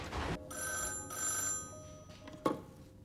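A telephone ringing indoors, with a faint electronic bell tone in repeated bursts and a short knock or clatter near the end.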